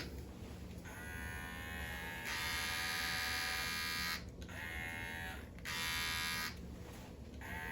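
Hatteker RFC-690 wet and dry beard trimmer with an internal battery running, a steady electric buzz that rises in pitch and loudness in several stretches as it is handled, close but fairly quiet.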